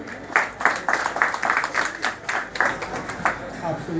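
Hand claps ring out from a devotional society gathering as a newly joined guest is welcomed, a steady patter of clapping with repeated sharp peaks. The clapping is moderately loud, with voices mixing in underneath.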